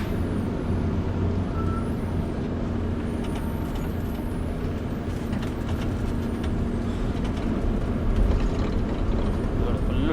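A vehicle descends a winding, heavily bent hill road in low gear with brakes applied repeatedly, giving a steady, loud, close engine and road rumble with mechanical rattles throughout.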